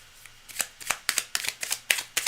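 A deck of tarot-style reading cards being shuffled by hand in a quiet room, giving a run of about nine crisp riffling bursts at a steady rhythm, fairly close and with no talking.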